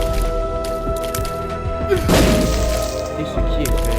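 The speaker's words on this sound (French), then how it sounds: "Il faut utiliser une bombe ici." A bomb explodes in The Binding of Isaac, a single muffled thump partway through, heard over steady game music.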